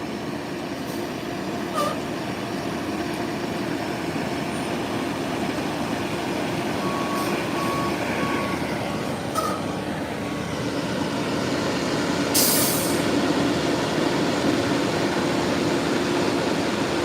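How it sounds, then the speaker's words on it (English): A tow truck at a car accident scene idles with a steady, loud engine rumble, faint reversing beeps in the middle and a short burst of air-brake hiss near the end. "I'm assuming they're going to use this tow truck here."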